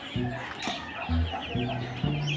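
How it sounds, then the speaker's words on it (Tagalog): Chicks on a farm peeping in quick, high chirps that repeat throughout, with hens clucking nearby and a low background hum. "meron tayong mga sisiw"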